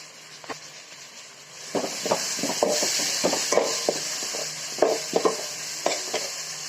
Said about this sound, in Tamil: இந்த ஸ்டேஜில் நான் 2 தக்காளி நல்லா பழுத்து தக்காளியாக கட் பண்ணி வச்சுருக்கேன். அதையும் போட்டு கிண்டிக்கலாம்.